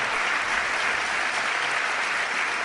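Studio audience applauding a guest on a Spanish television talk show, a steady dense wash of clapping that holds evenly from start to finish with no voices over it.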